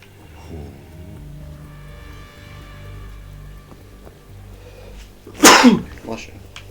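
A single sharp, loud sneeze bursts out near the end, following a quiet stretch of soft video-game background music and faint voices.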